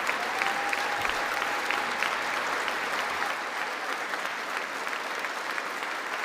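Members of Congress applaud during the State of the Union address, a steady broad wash of many hands filling a large chamber, loud at first and easing slightly toward the end, with no voices rising above it.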